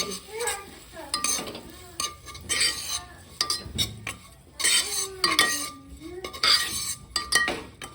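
Oats with onion and tomato roasting in a pan, irregular scraping and clinking of a spoon against metal in bursts over a faint sizzle, close by.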